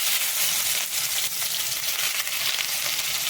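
Garlic drops into hot oil for a raw banana stir-fry, throwing up a loud, steady, close-up sizzle that holds without a break.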